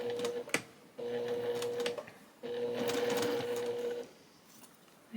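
A home sewing machine stitches a cross stitch piece for finishing, running in two bursts of fast, rapid whirring broken by short pauses, close and clear with no talking.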